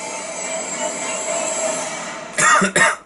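After a steady mechanical drone, two sharp coughs burst out close by in quick succession near the end.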